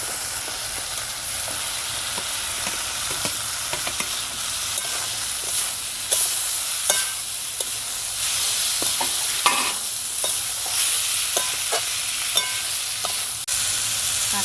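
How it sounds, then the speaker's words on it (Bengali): Potatoes and jackfruit seeds sizzle steadily in hot spiced oil, with repeated scrapes and clacks of a spoon stirring them through the pan, close and continuous without speech. "কাঁঠালের বীজ আর আলু ভালো করে কষিয়ে নেব।"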